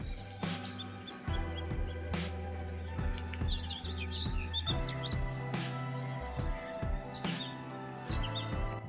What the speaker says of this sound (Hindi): चिड़ियां ने भी आवाज़ इन्नी सोहनी आ रही है